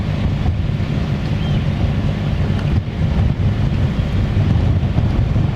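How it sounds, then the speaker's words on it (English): Strong wind buffeting a boat at sea off the Moray coast, a loud, constant roar of gusts across the microphone with waves beneath and no voices. "Nice sunny morning but very windy."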